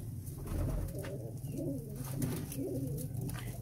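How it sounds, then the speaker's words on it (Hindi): Pigeons cooing in a breeding loft, soft repeated coos, some overlapping, close and gentle, with no talk. "ये कुछ पिजन्स अंदर भी मौजूद हैं"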